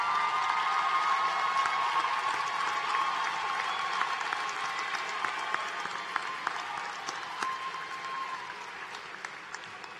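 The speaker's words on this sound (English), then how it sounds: "Give them a big round of applause for everything that they have done to get you all there." A commencement audience at a College of Nursing graduation gives sustained applause for graduates' families, dense crowd clapping filling the hall and slowly tapering toward the end.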